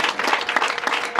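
Audience applause at a Rwandan cattle-praise poetry recital, a dense steady wash of many hands clapping close and fairly loud, with no talk over it.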